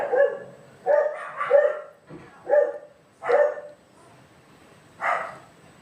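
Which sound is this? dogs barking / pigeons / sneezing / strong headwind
dogs barking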